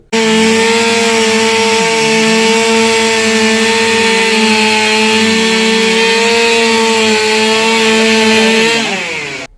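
A loud, close chainsaw drones steadily for about nine seconds, cutting up a tree fallen onto cars, its engine pitch dipping slightly as it bites into wood, then winding down at the end.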